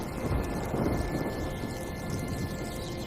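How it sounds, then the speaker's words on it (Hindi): Heavy rain pours down steadily during stormy weather, a dense, unbroken roar with low rumbling underneath that could be distant thunder. It runs loud and even throughout, with no voices. "बाहर मौसम खराब होने की वजह से तेज बारिश शुरू हो गई"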